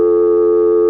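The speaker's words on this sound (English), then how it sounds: "The dial tone would keep right on going as if you hadn't dialed anything" A steady telephone dial tone hums continuously and loudly with no break, as it would keep going after dialing 1 on a Long Island line.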